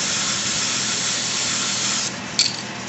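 A steady, loud aerosol hiss of carburetor cleaner sprayed from a can onto parts of an Echo CS-306 runs continuously, then cuts off briefly near the end.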